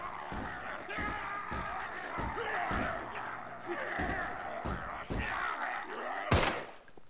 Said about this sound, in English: shot him through the door